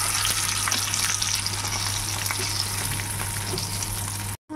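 Coconut milk poured into a hot pan of Bengali prawn malai curry with whole garam masala, giving a loud, steady sizzle and frying hiss that fills the clip and cuts off abruptly near the end.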